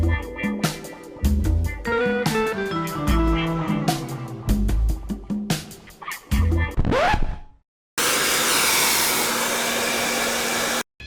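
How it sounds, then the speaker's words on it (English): A GHD blow dryer drying latex makeup blasts as a loud, steady whooshing roar for the last few seconds, preceded by louder unrelated sounds. "I'm using my GHD blow dryer to speed up that process."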